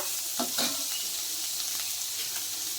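Carrot and tomato softening in a hot pan give a steady close sizzle, with a couple of quick stirring scrapes near the start and a continuous fry hiss after, with no voices.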